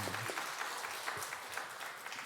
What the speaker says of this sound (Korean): 우리 격려의 박수 들어가겠습니다.